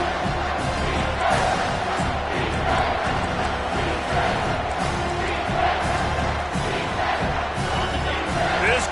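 A stadium crowd roars and cheers continuously in the NCAA 25 college football video game, a dense, loud, sustained wall of noise with slight swells throughout.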